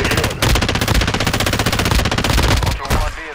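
Sustained rapid automatic gunfire in Call of Duty, loud and near, with dense continuous bursts running almost the full length and only brief dips between volleys.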